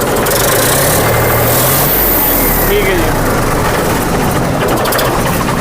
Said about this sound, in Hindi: भाइयों सेल्फ स्टार्ट दिखाएंगे हम आपको।